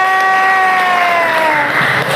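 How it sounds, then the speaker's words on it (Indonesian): A classroom applauds group 1 with lively clapping and some cheering, with a sustained tonal sound running through the clapping and voices over the noise. "Beri tepuk tangan untuk kelompok 1 yang meriah."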